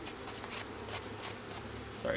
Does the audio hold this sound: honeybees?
yes